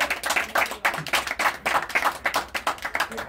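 A small crowd claps at a Warhammer 40K tournament prize giving. The claps come in a quick, uneven burst at moderate distance, dense and rhythmic, without cheering.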